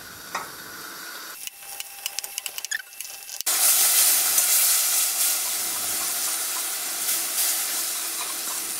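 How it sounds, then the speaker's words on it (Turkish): Ingredients for an oven-baked vegetable dish sautéing in a pan, starting with a few clinks and stirring, then a sudden loud steady sizzle and hiss once the food hits the hot pan, continuing to the end. "onu kavuruyorum şimdi"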